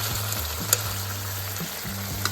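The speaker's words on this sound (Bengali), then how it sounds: "মাংসটা কষতে কষতে দেখো অনেকটা তেল ছাড়ছে তেলটা ভেসে উঠবে" Chicken cooking in oil with yogurt masala for Hyderabadi masala chicken, a steady close sizzle and frying crackle with occasional stirring scrapes, no voices.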